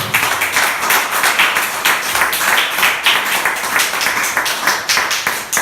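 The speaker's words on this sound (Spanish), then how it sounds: "Ese aplauso que sea para Cristo." A church congregation claps in loud, sustained applause. The dense rhythmic clapping continues evenly throughout with no speech over it.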